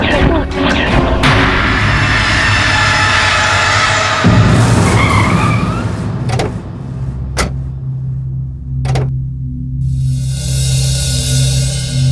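A car driven fast in a tense chase scene skids, its tires squealing loudly, with sharp crash-like hits around it and a rumbling low end throughout, under a dramatic soundtrack.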